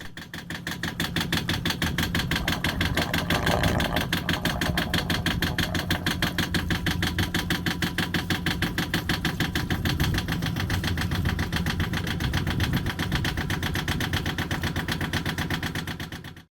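A Yanmar marine diesel on a boat idles steadily while antifreeze is run through it for winterizing, giving a continuous rapid knocking chug, close and even-toned, alone, until it cuts off at the end.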